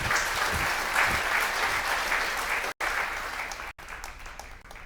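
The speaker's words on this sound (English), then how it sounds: "a tidal wave of cheering washed over Kutaro, and so deafening was the roar" Crowd cheering and clapping in the video game Puppeteer, a dense, loud roar with applause that cuts out abruptly twice and returns a bit quieter.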